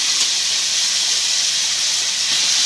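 Potatoes sizzling in a pan with softened onions, a steady bright hiss of frying that holds evenly throughout, close and alone.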